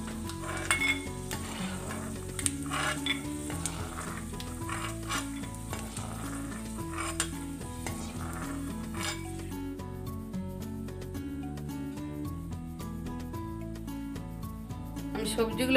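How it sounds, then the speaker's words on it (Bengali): Vegetables sizzle in oil in a pan for a Bengali mung dal khichuri, stirred with a utensil that clinks and scrapes now and then, with steady frying noise and soft music behind. "সবজিগুলো ভেজে নিচ্ছি"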